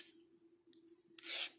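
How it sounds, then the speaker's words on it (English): Brief, light rasping strokes of a sanding stick filing the edges of a bracelet piece, a couple of soft scrapes ending in one longer, brighter stroke, heard close up. "I'm going to take my sanding stick and I'm going to just file the edges"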